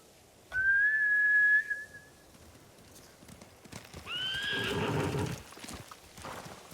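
A horse whinnies shrilly in the video game Ghost of Tsushima, then hooves clatter and another neigh rises as the scared samurai horses gallop off, mid-distance and fairly loud.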